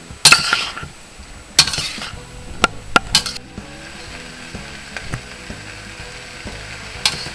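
Pork fried rice being stirred in a pan, with a utensil clinking and scraping against the metal in scattered knocks over a low sizzle.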